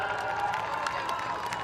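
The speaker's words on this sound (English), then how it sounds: "a round of applause for our winner in the blue, Emily Burge, as she makes her way up" Crowd at the Bay Sheffield race meeting applauding and cheering a women's race winner, a steady wash of clapping and voices held at an even level throughout, fairly close and dense.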